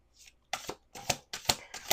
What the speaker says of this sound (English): Okay, 1 last shuffle.